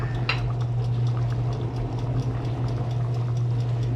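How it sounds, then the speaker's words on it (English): Water boiling in a pot for chili gives a steady, close bubbling and gurgling with a low hum from the stove underneath, continuous and fairly loud with no talking. "It's really starting to boil now."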